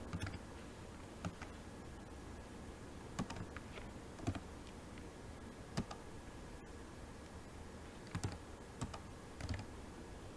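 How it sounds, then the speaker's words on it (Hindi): Keys clicking on a computer keyboard as an IP address is typed, with sparse, irregular taps over a steady room hiss, fairly quiet and close. "यहाँ पर मैं DNS सर्वर का आईपी एड्रेस टाइप कर दूंगा।"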